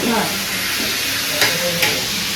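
Cumin seeds go into hot oil in a pan, giving a steady close sizzle and hiss with a couple of sharp crackles as a utensil stirs.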